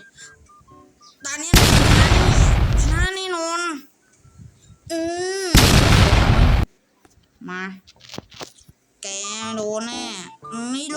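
Two loud, broadband bomb explosions in a stickman duel video game, each lasting about a second, separated by excited talking and shouting voices.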